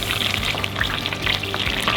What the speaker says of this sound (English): now we're gonna make a little bit of brown butter and toast some sliced almonds in it